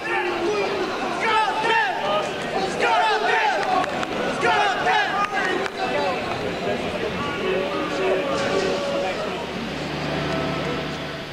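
Football stadium crowd in Marseille, a steady roar and chatter of many supporters under a voice speaking clearly over it.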